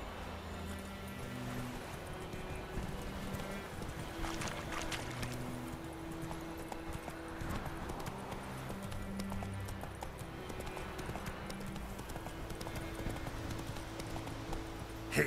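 A horse gallops in The Witcher 3, hooves clip-clopping in a quick, steady rhythm throughout, moderately faint under a light ambient game backdrop.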